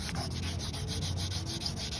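Steady, rhythmic rubbing of fine-grit sandpaper across a guitar's hard painted body, close up, with quick repeated back-and-forth strokes and no talking.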